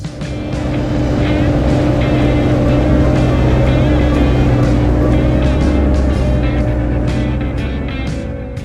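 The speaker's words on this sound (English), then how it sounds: "to hear the engine roar and watch the hydraulic suspension raise the entire machine" A giant Versatile DeltaTrac 620 tracked farm tractor engine roars loud and close in a steady, heavy low drone that holds without a break, with a faint rumble and hiss on top.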